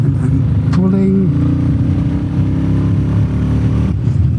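A Royal Enfield Meteor 350 motorcycle fitted with a FuelX Pro pulls in third gear. Its steady, low engine drone runs throughout, close by, while a person talks over it.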